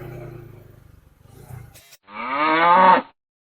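Buffaloes on a road give a loud, drawn-out moo lasting about a second near the end, after a stretch of low engine-like rumble and faint voices.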